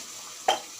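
Mixed masala spices drop into a hot oiled pan, setting off a short, sharp sizzle that flares briefly and fades back into a low steady frying hiss, close and fairly quiet.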